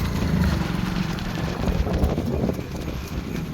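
Horse hooves clip-clop in a steady rhythm on a ride with two riders heading to a temple, close and moderately loud with some wind noise in the background.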